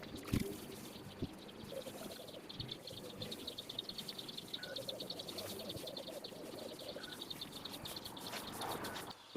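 Water from a watering can trickles gently onto garden seedlings outdoors, a soft, even splashing heard with birds chirping in the distance.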